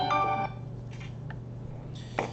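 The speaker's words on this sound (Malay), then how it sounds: "Maaf, ada gangguan telefon." A phone ringtone cuts into an online academic presentation, a brief melodic electronic tone burst, followed by faint clicks and room noise.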